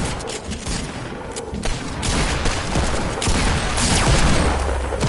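Dense video game gunfire during a solo tournament match, sustained rapid bursts of shots layered into a loud, continuous barrage that builds through the clip.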